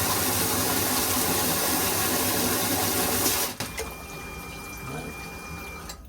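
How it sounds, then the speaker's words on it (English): Water pours into a boat's bilge while a high-capacity centrifugal bilge pump runs, a loud steady rushing that cuts off abruptly partway through, leaving a quieter drip and trickle with a faint whine. "I'm going to fill the bilge back up with water, and I'm going to watch the secondary pump go"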